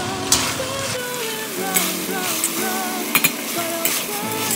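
Boiled pasta is tipped into a pan and stirred, with scraping, soft sizzle and several sharp metallic clinks of a utensil against the pan, close and moderately loud, with no talking.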